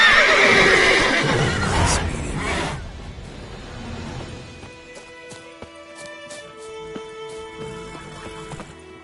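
A horse in The Witcher 3 lets out a loud, close whinny that fades into quieter game sounds and faint hoof clops, with no one speaking.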